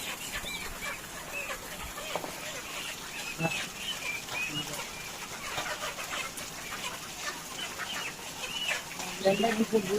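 Chickens on a farm cluck and squawk in an agitated, overlapping stream as they are caught and handed off. Occasional louder bursts rise above the flock, with faint human voices in the background.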